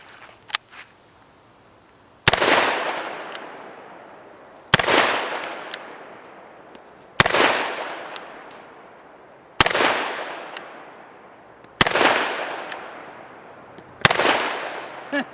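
Six loud, sharp gunshots from a Ruger Blackhawk Bisley .41 Magnum revolver, fired at steady intervals of roughly two and a half seconds, each followed by a long echoing decay, with faint handling sounds before the first shot.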